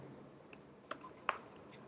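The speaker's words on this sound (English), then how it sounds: "I don't know why I'm pressing the shift key while typing the numbers" Typing on a computer keyboard while entering numbers with the shift key held, heard as a few sparse, quiet clicks spaced apart over a faint room background.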